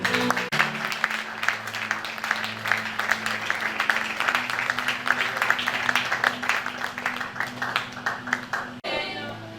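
Congregation applauding and cheering during a Sunday church service, a dense steady wash of clapping with crowd voices and a sustained musical tone underneath, cutting off near the end.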